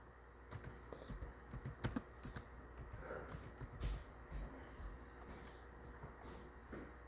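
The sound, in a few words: typing on a computer keyboard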